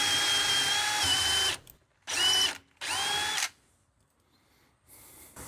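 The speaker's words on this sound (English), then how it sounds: "We're going to drill a hole in the 2 sides." A power drill whines in three separate bursts boring holes through scrap wood, a long run followed by two shorter ones, with quiet gaps between and a faint whir at the end.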